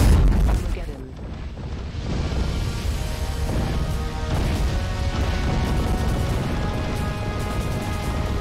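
Dense, continuous barrage of explosions from the shoot-'em-up video game Resogun during its end-of-level Armageddon sequence, loud and unbroken throughout with layered booms and crashes.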